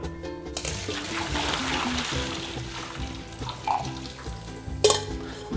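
Hot water and blanched spinach for a vegan lasagne are poured into a strainer, a close, steady watery rush and splash with a brief clatter near the end.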